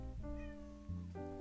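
A house cat meows in one drawn-out, wavering call, quiet and fairly close, with no talking.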